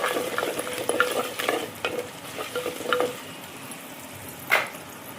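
Curry leaves crackle and sizzle in hot oil in a pan, with irregular popping bursts and spoon stirring scrapes, then quieter steady frying and one sharp late clatter.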